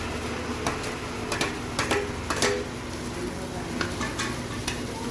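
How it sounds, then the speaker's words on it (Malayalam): A spatula scrapes and knocks against a pan in irregular strokes, mixing fried coconut into chicken thoran, over a soft, continuous sizzle of frying. "തേങ്ങ വറുത്ത് കോരിയതാണ് അപ്പം അതും കൂടെ മിക്സ് ചെയ്ത് എടുക്കുന്നു"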